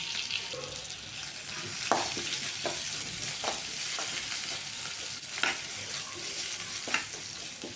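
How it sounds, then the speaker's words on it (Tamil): Curry leaves and asafoetida frying in hot oil as a tempering, a steady close sizzle with occasional stirring scrapes and brief pops, no voices. "கருவேப்பிலை போட்டுக்கலாம் கொஞ்சமாக பெருங்காயத்தூள் போட்டுக்கலாம்"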